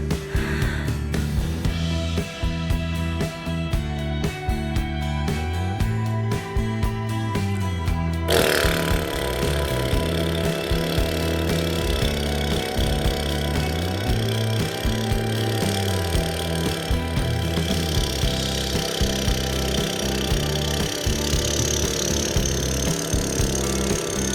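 A voice imitating a tractor during a vocal breathing exercise, a long buzzing, rattling lip-and-throat drone with pulsing rhythm, loud and close, held continuously with a sharp shift in tone partway through.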